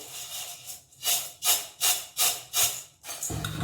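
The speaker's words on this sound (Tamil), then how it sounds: "இந்த மாதிரி கொஞ்சம் அந்த மசாலா எல்லாம் படுற மாதிரி மிக்ஸ் பண்ணி எடுக்கணும்" Bhel puri being tossed and mixed with masala in a bowl, giving about six rhythmic, close scraping swishes spaced evenly, followed by a brief duller rustle at the end.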